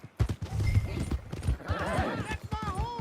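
Horse hooves clip-clop in Red Dead Redemption 2, a steady galloping patter up close, with whinnies and raised voices shouting over the top.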